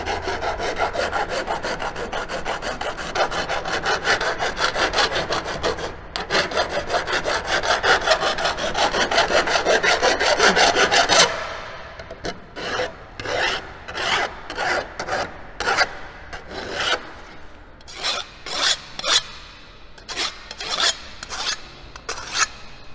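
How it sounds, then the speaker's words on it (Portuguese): Flat file worked across the cut edge of sheet metal in craft panel beating: a continuous rasping scrape at first, then separate rhythmic strokes with short pauses between them, close and alone. "E aí agora eu pego uma lima chata"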